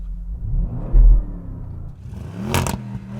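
Audi RS7 tuned to 700 hp revving up close, a deep rumbling burble that swells, settles into an idle, then bursts with a sharp crackle near the end.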